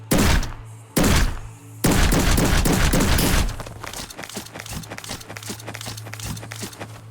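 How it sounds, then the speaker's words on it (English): A fully automatic shotgun in the game Forgive Me Father 2 booms in a few heavy blasts, then a rapid string of shots with a steady hum underneath. "This is a fully automatic shotgun that does less damage than the other ones."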